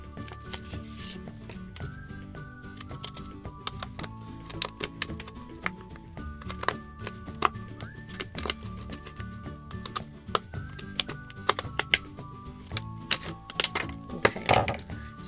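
Zigzag scissors cut through a Valentine's treat bag, giving a run of sharp, irregular snipping clicks close by over soft background music.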